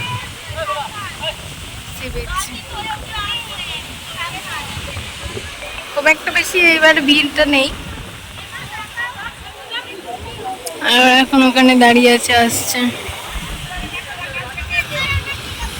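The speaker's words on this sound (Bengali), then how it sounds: "প্রচুর ঢেউ এখানে" Sea waves wash in at New Digha beach in a steady hissing roar, with a crowd murmuring and people talking nearby over the surf.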